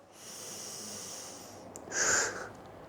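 A deep breath in taken during a morning stretching routine for back pain, heard as a long, steady airy inhale followed by a stronger, brief rush of breath near the end.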